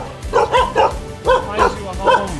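Several dogs at an animal shelter give short, repeated barks and yips in quick bursts, fairly close, with a person's voice mixed in among them.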